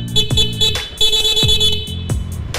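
A stock car horn honks loudly and close, its steady bright tone sounding in repeated bursts over a lower engine rumble.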